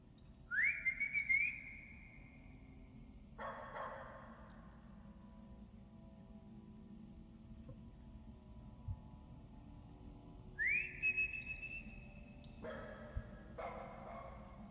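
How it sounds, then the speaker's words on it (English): In the indie horror game Lost in Vivo, a rising two-note whistle sounds twice, each answered moments later by a distant dog bark over a low ambient drone. "I need to whistle to know where he is."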